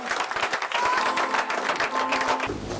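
A congregation applauding in acclaim of the Lord Jesus Christ at a messianic church gathering, dense sustained clapping from many hands, fairly close and even, easing slightly at the end.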